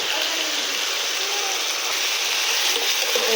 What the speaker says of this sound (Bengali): পেঁয়াজ দিয়ে দিচ্ছি। নেড়ে চেড়ে লাল করে নেব।